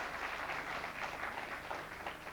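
Studio audience applauding on a Baku quiz show, Who Wants to Be a Millionaire, a steady dense wash of clapping that holds at even, fairly soft level throughout with no clear voices over it.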